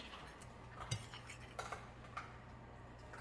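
A spoon stirs seasoning in a bowl for fried green tomatoes, giving a few close, light clinks and scrapes against the bowl in a quiet kitchen.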